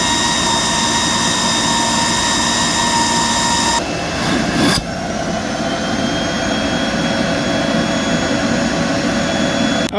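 A Proteam WRV Runningvac vacuum runs continuously with a loud, steady roaring whine plugged into a power strip, its pitch shifting briefly midway as the machine is held in place, no voices present.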